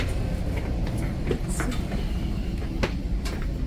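Inside a moving double-decker train, a steady low rumble of wheels and carriage fills the space, with occasional clicks and knocks over the continuous drone.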